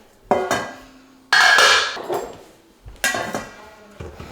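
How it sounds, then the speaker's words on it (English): Pots and bowls are set down and moved about in a home kitchen as apples are prepared, making three bursts of loud metallic clanks and clinks, each followed by a ringing decay. "we need a pot for my apples and a pot or a bowl for scraps"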